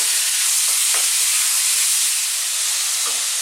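Chicken fajitas hiss loudly in a pan over really high heat, a dense continuous sizzle with a few soft clinks of stirring, close and with no talking.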